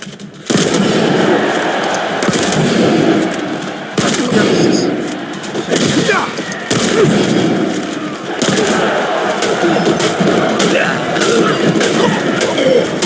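Rapid automatic gunfire from an arena fight video game crackles in dense, continuous bursts with brief gaps, loud and close, while someone talks excitedly over it.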